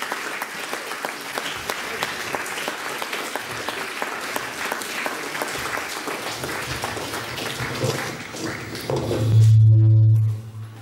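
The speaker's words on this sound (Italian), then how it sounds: "Quindi ufficialmente lo accogliamo con un applauso" An Italian audience applauds to welcome a guest at an event on fighting the mafia and femicide, sustained crowd clapping of many hands that swells louder near the end before cutting off.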